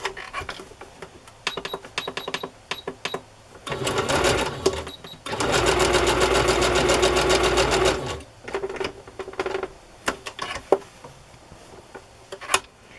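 A sewing machine zigzag-stitching fabric for a journal cover, whirring in short clicking bursts and one long steady run of about four seconds in the middle, close up with no talking.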